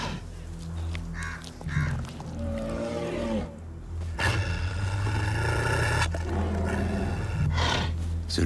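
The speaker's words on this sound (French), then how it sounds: "L'ours brun." Brown bear in the Alps roaring and growling, loud and close, in rough bursts with breathy panting between them.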